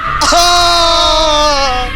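A loud, sustained scream with a sharp onset, holding a strained pitch for nearly two seconds before slowly tapering off.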